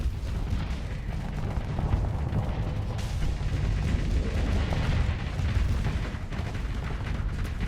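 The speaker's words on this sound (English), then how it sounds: "Pew, pew, pew. Fire all the guns." Ship guns fire continuously during a Starsector space battle, a dense barrage of booming shots and rumbling impacts that stays loud and steady throughout with no talk.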